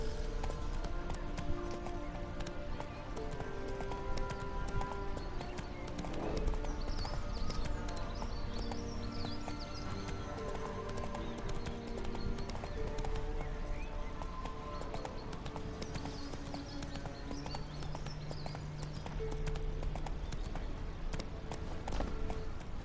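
A horse's hooves in The Witcher 3 clip-clop in a steady running rhythm throughout, moderately quiet beneath a layer of music.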